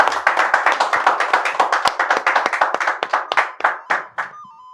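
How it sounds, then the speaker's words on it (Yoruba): An audience claps in a brisk, even rhythm of sharp hand strikes, loud and close, holding steady before the claps thin out and stop near the end. "Ẹ jọ̀ọ́ ẹ bá mi pàtẹ́wọ́ fún mi"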